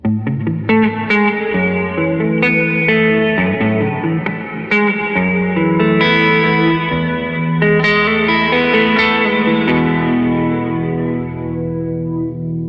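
An electric guitar plays chords and notes through a GFI System Solis Ventus reverb unit, drenched in lush reverb, each strum washing into a long shimmering tail that fills the space.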